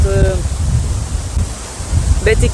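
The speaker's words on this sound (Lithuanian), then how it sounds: "vėjas čia visiškai nenurimo" Gusty wind blowing outdoors at a pike-fishing spot beside a campfire: a loud, steady low rumble buffeting the microphone throughout, with a few faint whistling tones.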